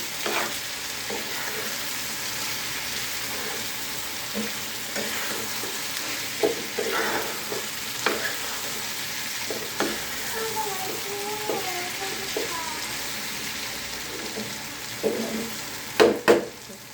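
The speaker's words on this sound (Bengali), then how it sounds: "এখন আমি চট চট করে সবগুলো ভালো করে ভেজে নেব। মাংস, পেঁয়াজ, টমেটো।" Meat, onion and tomato frying in a pan under a steady, close sizzle, with soft stirring scrapes throughout and a couple of sharper clanks near the end.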